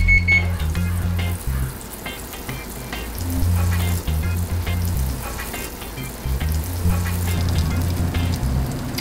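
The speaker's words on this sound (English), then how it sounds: "we're just adding in some butter to saute the shrimp" Butter sizzles steadily in a hot pan, ready for sauteing shrimp, a continuous close frying hiss with no talking.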